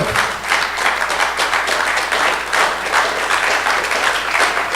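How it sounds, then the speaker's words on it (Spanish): A church congregation applauds during a sermon, a dense, steady wash of many hands clapping together that carries on evenly throughout. "Si va a aplaudir, aplauda"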